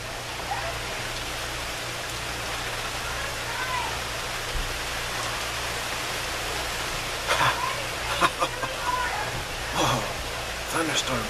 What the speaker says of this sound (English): thunderstorm just started.